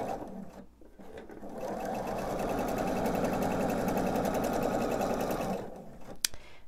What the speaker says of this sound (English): let's go ahead and sew. Make sure I don't flip my seams.